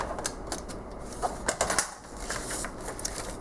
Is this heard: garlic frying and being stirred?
no